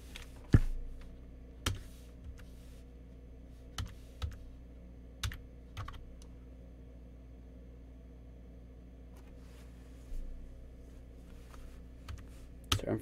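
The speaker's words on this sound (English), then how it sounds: "Sorry, I'm fucking slow typing." Slow, scattered keystrokes on a computer keyboard, with irregular sharp clicks spaced a second or more apart over a quiet, faint background hum.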